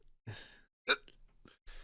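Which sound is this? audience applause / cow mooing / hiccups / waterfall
hiccups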